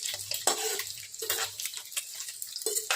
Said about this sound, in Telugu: గుడ్లు అయితే ఆయిల్లో వేసుకుందాం.